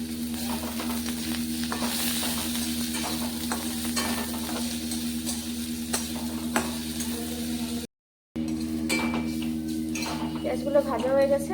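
Onions and green chilies hiss steadily in a hot pan while a spoon scrapes and clinks against the metal, the close sizzle broken by a short gap and then resuming with more stirring.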